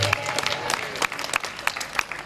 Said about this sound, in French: On applaudit votre fort.